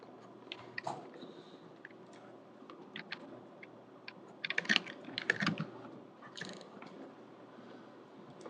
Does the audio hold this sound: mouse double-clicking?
yes